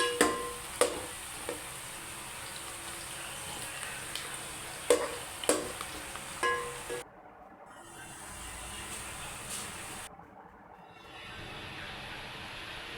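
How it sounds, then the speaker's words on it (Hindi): Onions frying in a pan for a chicken tori curry, stirred steadily with a spoon, with a low continuous sizzle and occasional scraping clicks of the spoon, close and fairly quiet, with brief drops in the frying hiss. "अब आप प्याज में चमचा बराबर हिलाते रहें"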